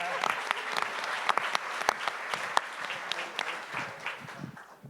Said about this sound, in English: let's give BJ a big round of applause